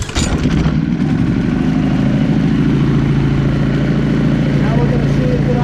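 A Powerhorse generator engine idles steadily at close range with a loud, even, low rumble and an engine-like hum, running continuously after a brief initial surge.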